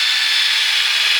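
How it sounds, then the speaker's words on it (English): A power drill with a polishing pad runs steadily on an Acura TSX headlight lens, a close, continuous high whir with light rubbing and no voices. "I'm letting the drill do the work here"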